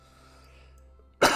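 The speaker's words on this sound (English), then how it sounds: "That was a bad cough." A single sharp cough bursts out near the end, close and loud after a stretch of quiet room noise.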